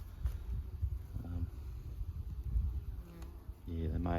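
Honey bees buzzing around a hive entrance at an apiary where syrup feeders and pollen substitute are set out; a steady, close insect drone runs throughout, with a louder buzz passing near the end.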